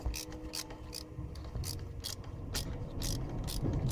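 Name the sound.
ratchet running in bracket bolts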